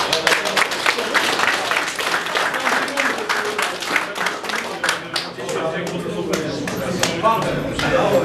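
A crowd claps at a powerlifting competition in a gym, with brisk, irregular applause that thins out over several seconds while voices chatter underneath.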